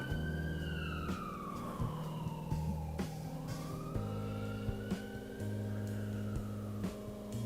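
Emergency sirens in Hartford, Connecticut wail up and down fairly close by, rising and falling over a steady musical backdrop.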